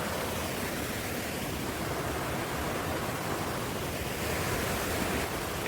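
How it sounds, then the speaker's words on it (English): Rushing mountain runoff stream of cold snowmelt water, a steady broadband roar that stays loud and constant throughout with no voices. "That's all mountain runoff."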